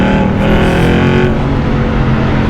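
An Aston Martin V8 Vantage engine accelerating under hard throttle, a loud, dense, continuous roar heard from close by without pause, with no talking.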